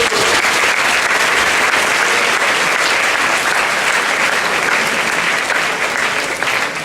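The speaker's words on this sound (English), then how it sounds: "Let's give a round of applause." A school assembly audience applauds after French and Japanese students present a Les Misérables performance, with steady, dense clapping that stays loud and even throughout.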